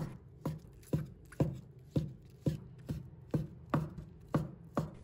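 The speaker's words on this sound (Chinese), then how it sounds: "把它放在案板上，先把它头切掉，不要把它切成薄片" Knife steadily chopping fresh shiitake mushrooms on a cutting board, about ten crisp, even strikes in a regular rhythm, close and clear with no talking.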